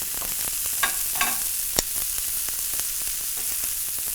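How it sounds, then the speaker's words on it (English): Cauliflower rice browns in a frying pan with a steady sizzle, and stirring adds a few scraping knocks and one sharp tap. "so I'm gonna start to stir it a little bit more"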